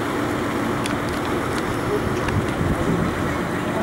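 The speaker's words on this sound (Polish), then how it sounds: "Motorówka flisak pilnuje." A motorboat circles on a river near a slowly drifting raft, its low engine hum running steadily beneath gusty wind buffeting the microphone, with faint, brief higher clicks scattered through.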